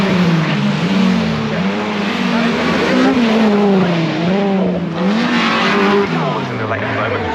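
A Honda Civic EP3 race car at Cadwell Park takes the double right-hander at Charlie's, its engine note rising and falling loudly and continuously through the corner while a commentator talks over it.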